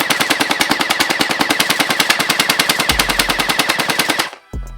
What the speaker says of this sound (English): Shooting right around exactly 10 rounds per second, which is actually pretty decent for this blaster.